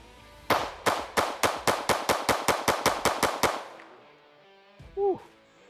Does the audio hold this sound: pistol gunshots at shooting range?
yes